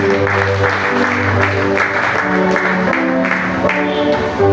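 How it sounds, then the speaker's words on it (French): A church congregation applauds during a service, steady clapping under sustained organ or keyboard chords and music, no speech over it. "Applaudissons pour Jésus."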